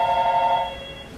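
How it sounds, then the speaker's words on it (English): A telephone bell rings once, loud and close in an indoor room, its ringing tone holding steady before cutting off and fading into quiet room noise, with no one speaking. "A lot of phone ringing."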